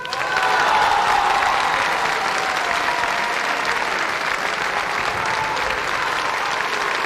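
An audience at a Neapolitan song event applauds the singer, with dense, sustained, loud applause throughout and a little crowd noise.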